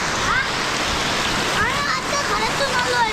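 Heavy unseasonal rain in the Konkan countryside, a loud, continuous wash of falling water with faint voices or calls heard faintly through it.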